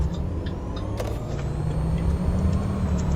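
IC CE school bus from Rigs of Rods driving with a steady low engine drone and road rumble, a couple of brief higher clanks partway through, no talking.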